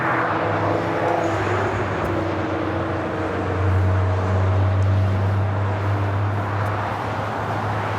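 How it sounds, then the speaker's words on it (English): An Asiana Airlines Airbus A380 arrives at LAX from Seoul, heard as a distant, steady jet drone with a low sustained hum that swells slightly midway, with no voices. "now visual with the A380. This is Asiana Airlines 202 coming in from Seoul on the A380"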